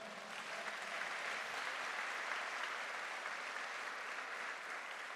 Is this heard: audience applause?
yes